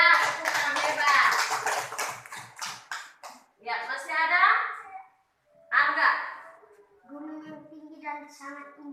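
Children in a classroom lesson clap their hands in a quick rhythmic run of claps for about three seconds, then someone speaks with a few pauses.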